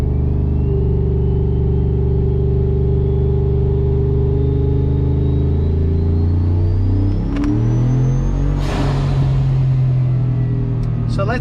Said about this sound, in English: Let's brake boost it at a higher RPM